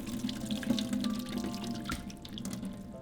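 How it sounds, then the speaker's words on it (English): Water from a pot of boiled chiles and tomatoes pours steadily down a sink drain, a continuous close splashing rush with small drips, no talking. "So now we're just going to drain our water."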